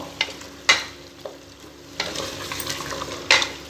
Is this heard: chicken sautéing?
yes